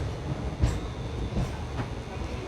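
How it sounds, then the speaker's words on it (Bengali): Ranaghat to Bongaon local train in West Bengal rolling through a curve, a steady low rumble of wheels and carriage with soft periodic thumps, heard from inside the coach at moderate level. "খুব সুন্দর একটি কার্ভ আমাদের এই ট্রেনটি নিচ্ছে এখানে।"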